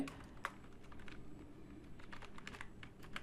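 Soft keystrokes tap in an uneven rhythm on a computer keyboard while HTML is written in a text editor, quiet and close with no speech over them.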